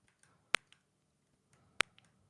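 Two sharp, isolated hand claps about a second apart, made to sync multicam footage, close and crisp in a quiet room.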